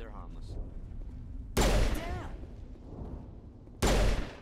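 A grenade blowing up in the sci-fi role-playing game Mass Effect 1, two loud close blasts a couple of seconds apart, each with a ringing, crackling tail, over a low game background and faint speech.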